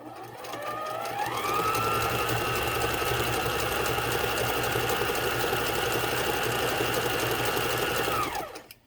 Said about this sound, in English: So we're going to do some test stitches on it.